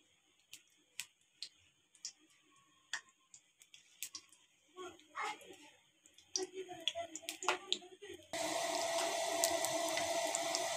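Pakora batter goes into hot ghee in a kadhai: scattered soft clicks and taps first, then a sudden loud, sustained hissing sizzle once the batter hits the fat.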